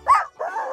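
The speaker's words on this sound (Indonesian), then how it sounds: "Iya, seekor anjing." A single short dog bark is followed by a brief whimpering yelp, close and fairly loud, with no talking.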